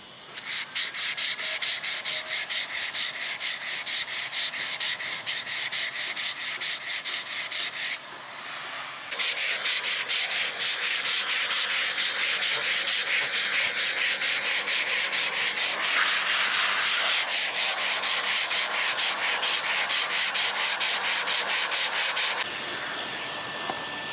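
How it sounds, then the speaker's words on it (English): Power sanding of Kiwi Grip textured coating off a boat deck, a steady close rasping rub that stops briefly near eight seconds, then resumes loud and continuous before cutting out at the end. "I'll show you a little bit of what's going on, and the sanding, and maybe the filling."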